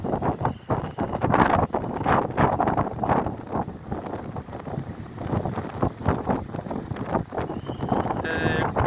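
Strong gusty wind blows by the sea near a pier where windsurfers ride, buffeting the microphone with loud, rough roaring and fluctuating bursts throughout.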